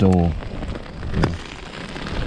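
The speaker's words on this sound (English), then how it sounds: "The rain has been constant." Steady rain pattering on a tent during a stormy bike-packing night under a yellow weather alert, a constant hiss close by with a brief tonal blip at the start.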